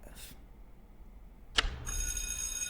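A bell sound effect, the death bell in a Freddy Krueger history piece: a faint brief ring, then a sharp struck tone that rings on as a sustained bright shimmer, quiet and alone.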